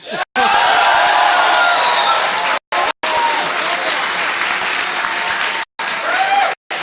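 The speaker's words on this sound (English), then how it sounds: "he needs just an out-of-control, screaming applause" Loud, dense applause from a large crowd, sustained for several seconds with a few abrupt breaks and scattered whoops.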